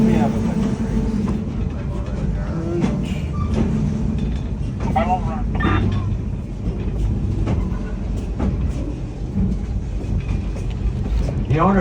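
Rolling through an old-growth redwood grove near Felton on the San Jose to Santa Cruz railroad, the train keeps up a deep continuous rumble with scattered clanks and brief squeals, and a voice speaks throughout.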